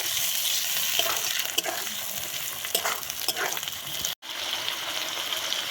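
Chopped tomatoes and green chillies being sautéed in a pan for a Bengali mutton kosha, a steady close sizzle and frying hiss with a few stirring scrapes and a brief break near the end.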